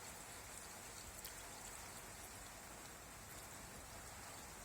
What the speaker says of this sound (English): Can't beat a real rain test